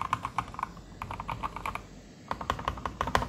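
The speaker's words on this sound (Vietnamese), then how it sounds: "Đây là bàn phím mới của Aco này" Typing on a new Akko 5108 mechanical keyboard with semi pin switches gives close, crisp keystrokes in quick bursts, with a brief pause midway and nothing else heard.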